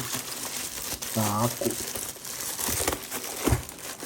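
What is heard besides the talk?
new AKKO TAC75 HE keyboard packaging being torn open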